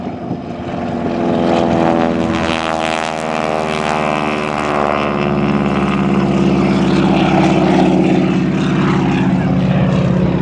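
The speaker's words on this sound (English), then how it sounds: "listen again to the sound of that 600 horsepower radial engine" A loud 600-horsepower Pratt & Whitney R1340 radial engine roars with a throbbing propeller drone, rising in power and holding strong as an AT-6 trainer plane takes off at an air show.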